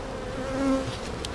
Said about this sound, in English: All the bees will be pushed to the top here.